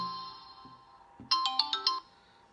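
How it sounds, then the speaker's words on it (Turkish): An iPhone ringtone plays a quick series of bright electronic tones on an incoming call, close and clear, after a quieter stretch of soft background sound. "Gördüğünüz gibi telefon çaldı."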